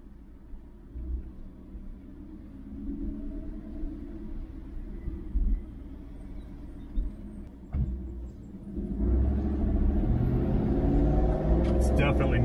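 Low in-cabin rumble from a 2019 Ford F-150 fitted with a Corsa exhaust while driving, steady and muted, swelling louder near the end, with a voice talking over it.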